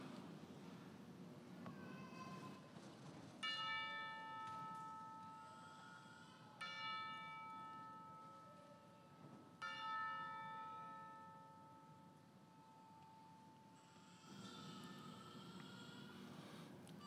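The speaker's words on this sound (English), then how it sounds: "as a bell rings in their honor." A single bell tolls slowly during a Memorial Day moment of remembrance at a high school graduation, with three clear strikes a few seconds apart, each ringing out and decaying over a low background rumble.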